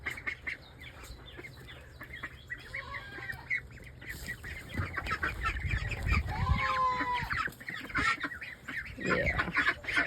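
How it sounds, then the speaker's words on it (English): Several young farm chickens clucking and calling nearby in bursts, with honk-like squawks and faint background noise, no speech. "I think these 3 chickens are all boys."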